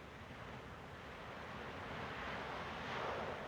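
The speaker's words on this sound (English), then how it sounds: "We hear the wave building" Ocean surf rumbles on a beach in location production sound from the 1963 film Lord of the Flies. A wave builds in a steady, broad wash that swells slightly louder toward the end, with no voices.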